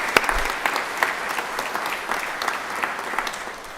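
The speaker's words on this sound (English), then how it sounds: "Could we clap for them again?" Steady applause from an audience at a Teacher of the Year celebration, dense clapping sustained throughout with a few sharper claps standing out.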